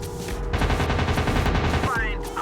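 Rapid machine gun fire in the WW2 dogfight game Warplanes: WW2 Dogfight, a loud, fast, continuous burst of evenly spaced shots that runs for about a second and a half over steady engine drone.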